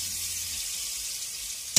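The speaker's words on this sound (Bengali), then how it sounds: "এদিকে আবার কুমড়ো ভাজা আছে।" Pumpkin pieces fry in oil in a pan, giving a soft, steady hiss with a short sharp clatter near the end.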